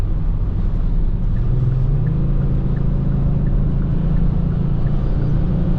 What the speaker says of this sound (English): All I hear is road noise and wind.